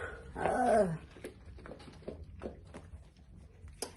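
A dog gives a short whining yelp near the start, followed by quieter scattered shuffling and faint knocks.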